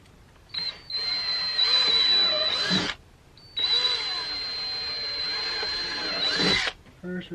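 A power drill whines loudly in two long bursts of about two seconds each, with a short pause between, close by, drilling holes in a boat to mount a Raymarine Dragonfly unit.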